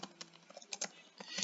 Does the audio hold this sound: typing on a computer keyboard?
yes